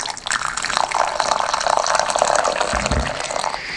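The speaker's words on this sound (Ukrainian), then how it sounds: "Тепер я обережно наливаю воду сюди." Water pours steadily into a pot of jars packed with salted pork fat, a continuous splashing rush that deepens slightly toward the end, heard up close with no talking.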